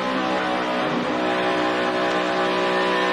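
A NASCAR race car engine roars at steady high revs on track during the 2011 Heluva Good! Sour Cream Dips 400, a loud, continuous in-car drone as the driver eases off the throttle and brakes briefly.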